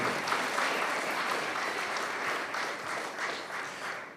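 A roomful of people applauds a keynote speaker at a Pacific Island studies Talanoa Series event, with sustained, even clapping that carries at moderate volume throughout with no pauses.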